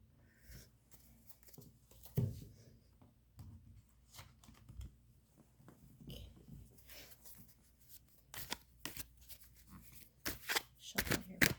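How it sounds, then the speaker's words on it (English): Tarot cards being shuffled by hand, soft irregular riffling and sliding bursts that grow busier and louder toward the end, with no talking. "Okay, so let's shuffle."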